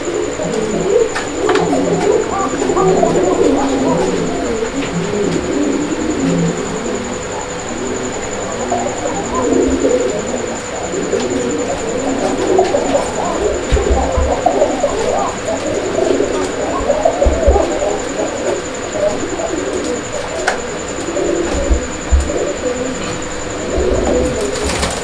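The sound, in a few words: pair of red Bombay pigeons cooing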